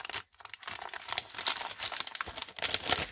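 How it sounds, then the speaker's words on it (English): Crinkly plastic wrapping peeled and crumpled off a sticker pack, close and fairly quiet, with irregular crackling bursts and short pauses throughout. "let's get rid of that plastic and that noise right off the hop"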